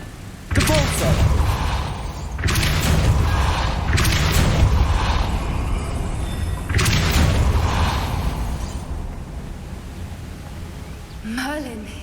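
A Depulso force spell cast in Hogwarts Legacy lands as a burst of booming, whooshing impacts, several heavy thuds in a row over ambient game sound, with a short magical shimmer near the end.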